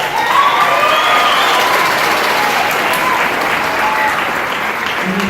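Loud, close applause from a school concert audience for a middle school drummer, with dense, continuous clapping mixed with a few cheers and whistles, steady throughout.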